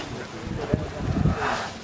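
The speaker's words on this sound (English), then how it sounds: "Still windy." Strong wind gusting on Mt Fuji at night, loud buffeting rumble against the microphone in uneven bursts over a short stretch.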